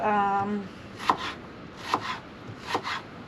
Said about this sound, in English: I'm going to cut up a little bit of onion